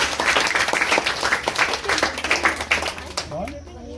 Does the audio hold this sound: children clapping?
yes